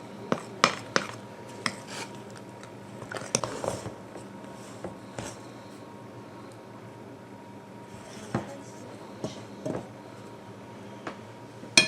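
A spoon clinks and scrapes against a metal whisk while clearing off sticky bread dough for a Dutch oven artisan loaf, producing scattered sharp taps and scrapes in a quiet kitchen.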